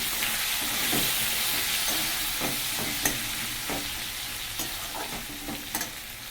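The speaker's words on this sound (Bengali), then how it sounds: "পেঁয়াজগুলো ভেজে নেব।" Onions sizzle steadily in a pan of hot oil seasoned with cumin tempering, for a Bengali katla fish curry, with a continuous close hiss and scattered spoon scrapes and stirring clicks throughout.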